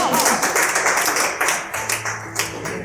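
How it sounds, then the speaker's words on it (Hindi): An audience at a mushaira poetry gathering claps in a steady rhythm, many hands beating together at a fairly loud level with a faint voice underneath. "सिर्फ ताली बजानी है"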